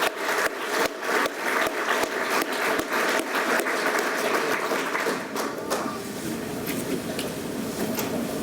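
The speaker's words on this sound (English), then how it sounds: "So we'll give him a round of applause." An audience at a fire department awards ceremony applauds with sharp, dense clapping. The applause is loud at first, then thins out toward the end.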